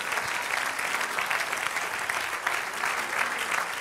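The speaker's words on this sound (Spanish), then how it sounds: "Dale aplauso al Señor." Sustained applause from a church congregation, steady and dense clapping throughout, no voices over it.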